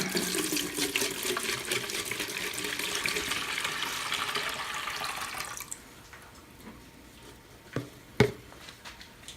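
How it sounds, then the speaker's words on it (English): Steady splashing stream of paint thinner poured into a bucket for several seconds, then it stops, followed by a couple of faint knocks. "pour the paint thinner"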